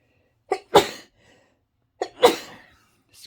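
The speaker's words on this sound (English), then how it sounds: "Excuse me, I had a sneeze." Two sharp human sneezes about a second and a half apart, each with a quick intake of breath before the burst, close and loud in an otherwise quiet room during a crochet session.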